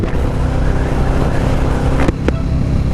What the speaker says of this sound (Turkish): Az önce de motoru biraz gürlettim